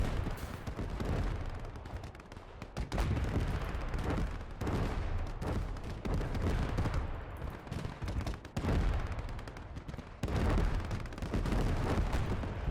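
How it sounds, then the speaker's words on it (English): In the Gates of Hell WWII battle game, a defensive firing line opens up on German infantry: dense, loud volleys of rifle and machine-gun fire crackle continuously with sharp bursts and brief lulls, booming impacts mixed in. "now we're getting a firing line going here"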